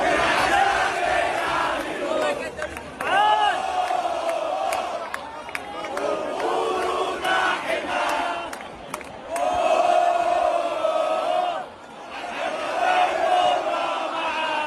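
Pyramids football supporters chant together in the stadium stands, a loud, dense crowd sound with rising and falling waves of voices that carries on steadily throughout, with cheers and shouts mixed in.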